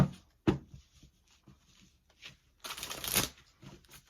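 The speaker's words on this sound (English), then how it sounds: "That wasn't a very good shuffle." Tarot cards shuffled by hand in a few bursts: a sharp riffle near the start, scattered light card taps, then a longer, louder fluttering shuffle toward the end, close and alone with no talk.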